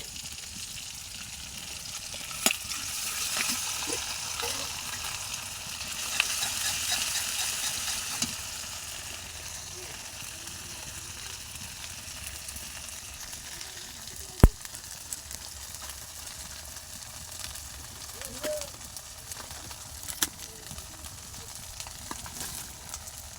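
Ginger-garlic paste frying with browned onions in hot oil for an egg and potato curry, a steady close sizzle with soft crackles and a few sharp clicks from a spoon against the pan.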